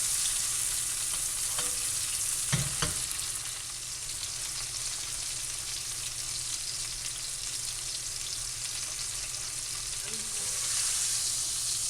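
Steak searing in a pan with butter, a continuous dense sizzle close by, with a couple of soft knocks early on and otherwise an even hiss throughout.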